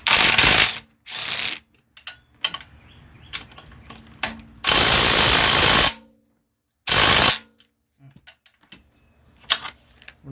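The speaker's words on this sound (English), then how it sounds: "we've got to unbolt this bracket right here" Ratchet wrench loosening a bracket bolt on a 2010-2015 Toyota Prius hybrid inverter, with loud rapid clicking bursts separated by pauses and small metallic handling knocks, close up and without talk.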